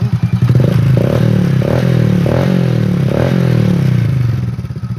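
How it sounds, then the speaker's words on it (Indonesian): Honda Supra Fit motorcycle engine, just restarted after a wet-weather or washing stall, running steadily nearby with a continuous loud putter and a few brief revs. "itu nanti ya kita hidupkan dulu mesinnya"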